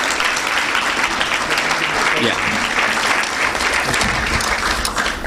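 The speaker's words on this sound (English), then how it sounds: "Okay, girls, give yourselves a round of applause." A school board meeting audience applauds the girls' lacrosse team with loud, sustained clapping throughout, while a voice speaks briefly underneath.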